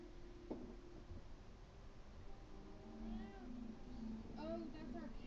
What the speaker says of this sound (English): that's our cat, Morris.